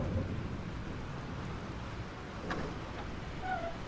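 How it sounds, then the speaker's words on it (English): A thunderstorm from the video game Life Is Strange: steady heavy rain hiss and low rumbling thunder fill the scene, with a faint crack partway through, continuous and fairly quiet. "This storm is real."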